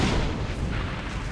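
Cannon fire in the video game Assassin's Creed Revelations, a dense continuous booming roar, loud and close throughout with no talk.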